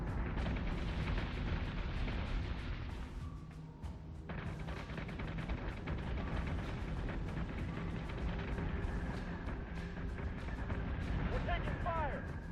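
A ship under weapons fire in the video game Battlestar Galactica Deadlock: dense, loud rumbling blasts and impacts roll on continuously, layered with game music and radio chatter.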